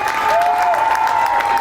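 A crowd at a Little League parade and meet-and-greet claps loudly and steadily for the team's coaches in a brief burst, with a whistle carrying over the applause.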